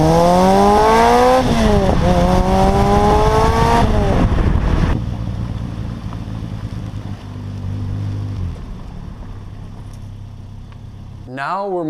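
A car engine winds up loudly through the gears, rising in pitch and dropping at each shift, then eases off into a lower drone before revving again.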